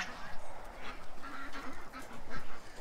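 A group of ducks on a muddy farmyard keep up a busy chorus of nasal quacks and honks, overlapping calls close by with no talking.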